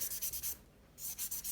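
Polygel nails being buffed with a 1200 grit block, giving steady rhythmic rubbing strokes close up, each pass a soft scratchy swish, with a brief pause midway before the strokes resume.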